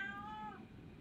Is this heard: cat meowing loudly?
yes